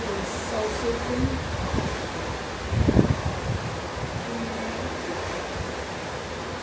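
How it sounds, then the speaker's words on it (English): Ocean waves wash against the hull below the top deck of the Carnival Mardi Gras cruise ship sailing toward San Juan on a breezy day, a steady broad hiss with one louder surge midway, wind noise throughout. "Sound of the wave is so soothing."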